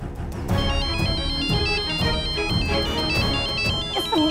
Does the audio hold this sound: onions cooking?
no